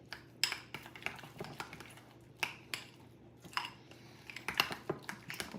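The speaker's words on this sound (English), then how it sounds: "I'm going to mix all of this together, and you can mix it or whisk it, whichever you want to" Swiss cheese dressing being mixed in a bowl, with irregular close clinks and scrapes of a utensil against the bowl, sharp taps spaced unevenly over soft background noise.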